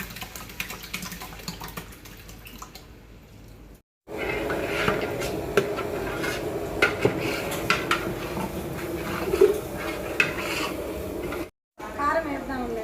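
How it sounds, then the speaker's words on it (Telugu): Beaten eggs poured over fried onion and cabbage in a pan, then stirred, with a steady sizzle under repeated clinks and scrapes of a utensil against the pan, close up, broken by two short silent gaps. "ఇక ఎగ్స్ పోస్తున్నాను"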